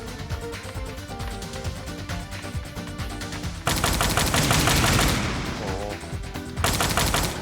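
Rapid bursts of automatic gunfire and explosions from a PlayStation 5 video game, loud and continuous, with dense machine-gun rattles that intensify partway through and carry on without talk.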